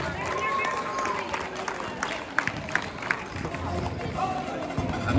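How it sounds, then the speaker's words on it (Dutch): An indoor audience claps and cheers for the dance group Identity at a school anniversary event, scattered sharp claps rising over a busy hum of crowd noise. "een applaus voor Identity!"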